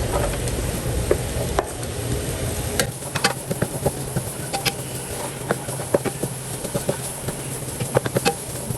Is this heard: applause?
no